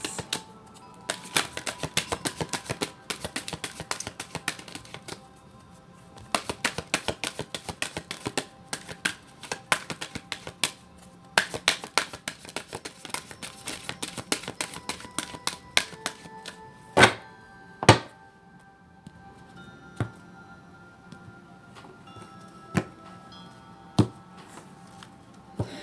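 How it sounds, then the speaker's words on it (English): Tarot cards being shuffled by hand, giving irregular bursts of crisp slaps and riffles, some louder snaps standing out, with quiet gaps between, close and alone without talk. "As I shuffle, I can feel the energy coming off these cards"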